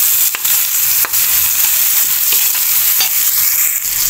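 Garlic and onion fry hard in a pan until browned, giving a loud, steady sizzle with a few sharp stirring clicks and scrapes and no voices.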